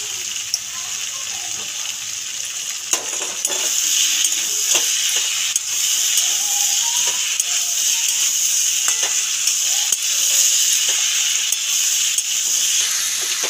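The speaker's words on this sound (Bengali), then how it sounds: "বেশ কিছুক্ষণই নাড়াচাড়া দিয়ে ভাজতে হবে।" Green tomato and pre-fried potato sizzle loudly in a pan, a constant bright hiss with occasional soft scraping taps as the pieces are stirred.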